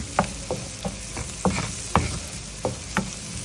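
Garlic and onion sautéing in butter for sinantomas, a steady sizzle under repeated sharp scrapes and clacks of a spatula stirring the pan, about eight strokes spaced at a loose, uneven rhythm.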